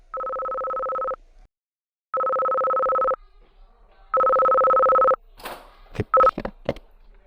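A telephone places a call: three long, steady dual-tone ring signals with pauses between them, then a quick run of clicks and short beeps.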